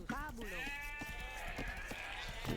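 Sheep in the Age of Empires video game give a short, clear bleat near the start, followed by game ambience and faint clicks.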